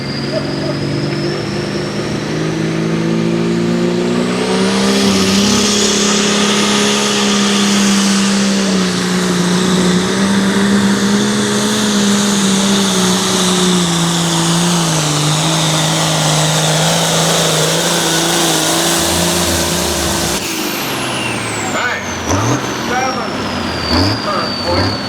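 A Cummins-powered Oliver pulling tractor roars down the track at a tractor pull, its engine a loud, sustained, ground-pounding drone that rises and strains for over twenty seconds before fading, with a voice briefly heard near the end.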